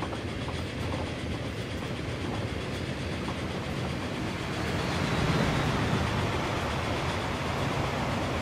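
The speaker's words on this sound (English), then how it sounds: "Here comes one of those Alco Pennsylvania Mainline Express trains." An Alco Pennsylvania Mainline Express train rushes past in the railway simulation game Transport Fever, a dense continuous roar of wheels and carriages with faint clickety-clack, swelling slightly toward the middle, no talking.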